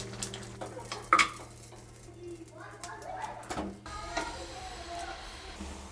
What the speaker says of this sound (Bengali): এবার সমস্ত উপকরণটাই আমি প্রেসার কুকারে দিয়ে দিচ্ছি